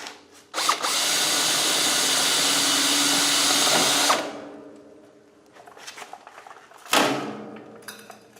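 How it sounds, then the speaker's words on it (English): A battery- or air-powered rivet driver works on Ford Mustang donor suspension parts, a loud sustained whirring burst of about four seconds, then quieter clicks and handling noises and a second sharp burst. "You'll want an air-powered or battery-powered rivet driver."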